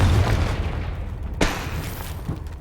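A magic fire-blast spell cast in the Hogwarts Legacy game gives one sharp booming burst near the middle, with a rumbling low background and a softer pop toward the end.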